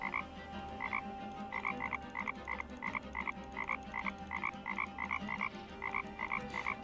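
Frogs croak in the point-and-click adventure game Chaos auf Deponia, a steady rhythmic run of paired croaks repeating about twice a second over a low ambient game backdrop, with no talking.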